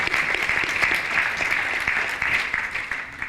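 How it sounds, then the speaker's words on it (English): Applause in a European Parliament committee room welcoming the Armenian Prime Minister: a full, even round of clapping from the audience, loud and sustained throughout with no speech over it. "I think we should really welcome the Prime Minister with a round of applause"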